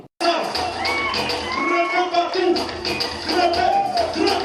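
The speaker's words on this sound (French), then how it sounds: "est-ce que tout le monde peut applaudir?" A crowd at a live outdoor radio show applauds and cheers in a steady, dense wash of clapping and shouts that starts abruptly and carries on throughout.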